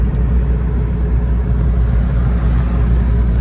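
Steady low engine rumble and road drone from inside a first-generation Mitsubishi Pajero on the move, a continuous loud hum with no voices.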